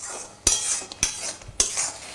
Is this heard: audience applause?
no